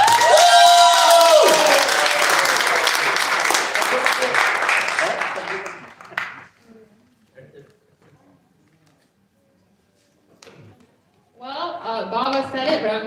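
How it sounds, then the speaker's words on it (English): An audience at a Pakistan Resolution Day flag-hoisting event claps loudly for a children's performance; the applause with some cheering fades out after about six seconds, leaving near silence before voices resume. "Give a strong round of applause for these children."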